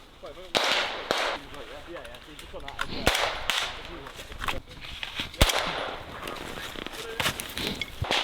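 Rifle fire during a large military invasion exercise in Europe's far north, with loud sharp shots cracking irregularly alongside more distant bursts. Soldiers shout over the gunfire.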